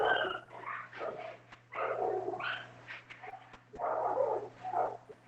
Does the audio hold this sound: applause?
no